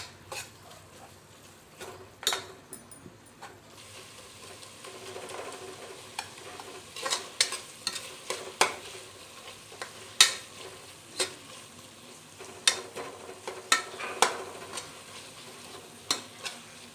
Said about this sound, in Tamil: சேர்த்து 2 தக்காளி வெங்காயம் இதெல்லாம் நல்லா இது கூட இஞ்சி பூண்டு பேஸ்ட்டெல்லாம் சேர்ந்து நல்லா வதங்கி வரட்டும்.